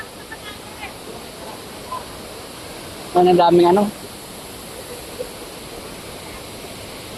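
A waterfall roars in a steady, even wash of rushing water that fills the whole stretch, while a person speaks briefly and close partway through.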